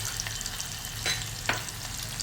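Chopped onion hits a pan and fries with a steady, close sizzle, broken by a couple of brief scraping stirs and no voices.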